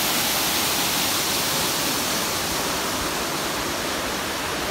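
A waterfall at an old lost mine site roars with a steady, dense rush of water, loud and unbroken throughout with no voices.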